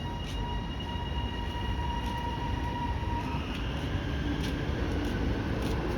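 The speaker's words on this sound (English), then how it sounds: "This is the East Pakenham train" A train standing at a West Footscray suburban platform, the East Pakenham service, with steady rumbling and faint tonal hums from the stationary train and station over a continuous background wash.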